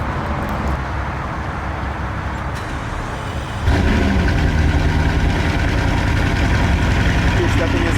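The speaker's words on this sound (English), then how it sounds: "Here we go, let's hear the cold start." Bugatti Chiron Pur Sport cold start: engine noise steps up sharply partway through into a loud, sustained, broadband roar that holds to the end, with voices talking under it.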